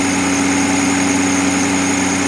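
Mercedes 600SL engine idling too fast at about 1200 RPM on a cold start, with throttle actuator faults: a loud, steady, close-up drone with a constant buzzing hum and no change in pitch.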